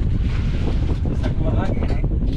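Strong wind buffets the microphone aboard a small fishing boat at sea, a steady loud roar with gusty swells and water noise throughout, while a voice talks faintly underneath.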